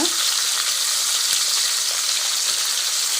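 Stuffed okra (ladyfingers) frying in oil in a pan, giving a steady, close, loud sizzle with faint crackles throughout and no voices.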